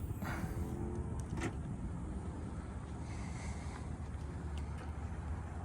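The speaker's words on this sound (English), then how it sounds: "One of the great options on this truck is the automatic tailgate." Automatic tailgate on a 2022 Ford F-350 DRW Lariat FX4 pickup operating, a steady mechanical whir with faint clicks under light wind noise outdoors, no talking.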